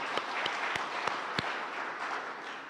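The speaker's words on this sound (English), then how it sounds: "Let's give him a round of applause." A round of applause from the audience at a nutrition food project closure event, steady dense clapping with a few sharper claps standing out, sustained and fairly loud throughout.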